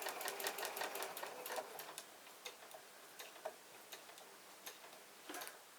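Sewing machine stitching a quilt block seam, running in short bursts of rapid ticking stitches that start and stop, moderately loud and close, with no voices.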